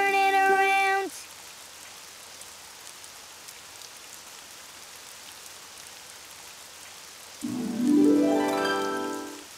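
Steady rain falls outside in a soft, even hiss that continues throughout, framed by bright musical tones at the start and end.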